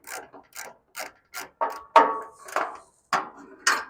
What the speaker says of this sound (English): So we're just going to use this wrench.